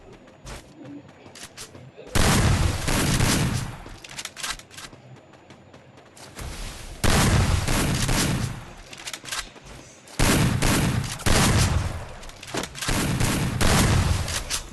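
Gunfire in the mobile shooter Free Fire comes in three long, loud bursts of rapid automatic shots, separated by short quieter gaps, with a player talking over the action.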